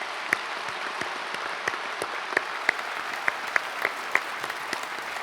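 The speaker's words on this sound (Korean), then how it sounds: "우리 박수로 축복하겠습니다" A large church congregation at a special early-morning service applauds together, a steady, even wash of clapping with a few sharper individual claps standing out.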